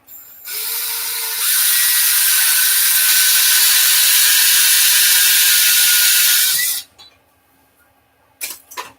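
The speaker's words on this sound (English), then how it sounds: "countersink our hole again because we have to countersink these" A countersink bit bores into a hole while a pistol is being built, giving a steady, loud high-pitched whir for about six seconds before stopping abruptly, followed by a few faint clicks.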